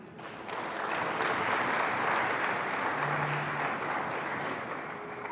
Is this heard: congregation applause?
yes